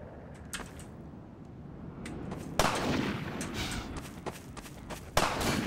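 Distant gunfire in Half-Life 2: Downfall, with a sniper nearby, comes as a few scattered sharp cracks. Two louder, nearer shots stand out over a rumbling, noisy background.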